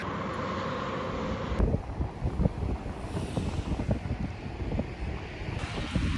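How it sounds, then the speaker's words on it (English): Gusty wind buffets the microphone on a mountain hiking trail with a steady rushing roar and scattered crackling thumps of rain, no voices. "it's really raining now. And it's windy."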